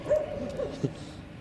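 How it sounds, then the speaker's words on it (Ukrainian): Several dogs bark from a distance during dog training, with a short yelp standing out, all faint against a steady background. "у нас там купа собак, які теж гавкають"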